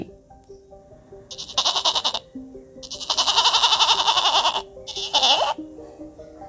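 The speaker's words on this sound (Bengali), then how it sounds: "ছতে ছাগল, ছাগল ছানা লাফিয়ে চলে" A young goat bleats in three wavering, vibrato cries, the middle one longest, over a light background tune in a children's alphabet-learning setting.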